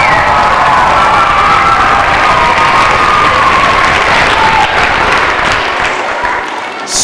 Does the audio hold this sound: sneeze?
no